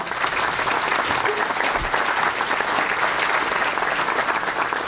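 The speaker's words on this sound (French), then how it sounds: "On peut les applaudir aussi, les citoyens vigilants." A large audience claps loudly and continuously in a hall, a thick, even roar of hands that holds steady throughout.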